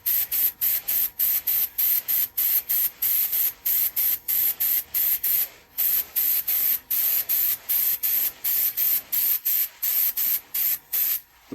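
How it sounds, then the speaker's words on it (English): An aerosol can sprays finish onto a turned wooden bowl in a steady series of short hissing bursts, about two per second with brief gaps, loud and close, with no talking. "Now I'm just going to give this a quick spray."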